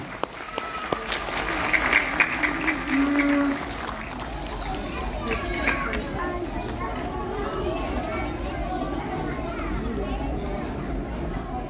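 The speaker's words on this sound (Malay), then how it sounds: "Berikan tepukan kepada anak-anak kita dan juga para guru semua." An audience at a kindergarten Quran memorisation and prayer recital event bursts into applause for the children and teachers, clapping loud at first then thinning out, with children's chatter and an adult speaker over it.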